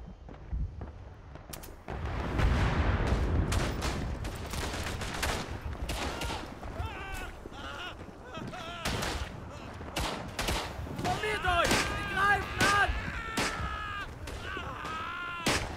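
Artillery barrages in the WWI shooter Verdun on the Artois map, booming across No Man's Land amid dense rattling gunfire and machine-gun bursts, loud and continuous with scattered distant voices and radio-like chatter underneath.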